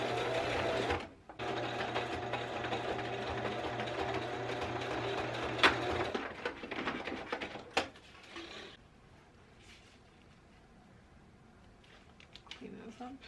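Sewing machine stitching a small bag made from fabric scraps, running steadily and loudly for several seconds with a continuous buzzing hum, then stopping and giving way to quieter handling sounds.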